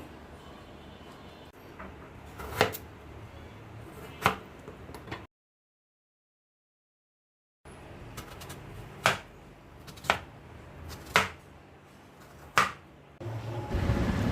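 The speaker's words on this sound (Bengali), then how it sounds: "মাছ রান্নার জন্য আলুটা কেটে নিচ্ছি।" A knife cuts through potato for a fish curry, giving sharp, evenly spaced chops against a board, with one silent gap partway through.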